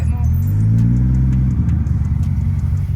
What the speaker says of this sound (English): Right, there's the car coming